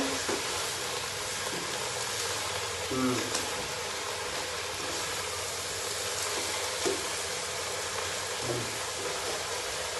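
A constant close sizzle of vegetables frying in a pan in a Malaysian home kitchen, with a few scraping knocks of stirring, while a person talks over it.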